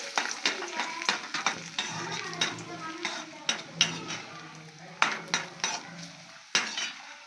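Raisins fry in ghee in a pan while making sprouted ragi laddu, with sizzling under a series of sharp spoon scrapes and clinks against the pan, repeated irregularly at close range with no talk.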